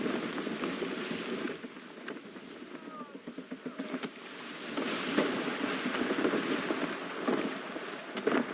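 Wind rushes across a sailing ship at sea in Assassin's Creed 3, a continuous blustery roar with rushing water and creaking surges that strengthen toward the end.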